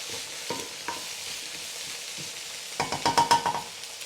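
Chicken pieces and bell peppers sizzling in a hot pan for chicken teriyaki, a soft steady fry punctuated by a few scraping stirs and a quick burst of clinks and knocks toward the end.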